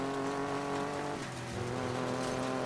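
Race car engine in Need for Speed Payback, a sustained high-revving buzz with strong harmonic whine that dips briefly as gears shift, then climbs again, loud and alone.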